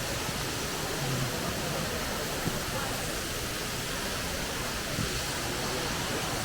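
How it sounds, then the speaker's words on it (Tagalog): Waterfall in Antalya, Turkey, a steady broadband rush of falling water filling the whole scene at an even level, with no breaks and only faint incidental bumps. "Ito yung waterfalls."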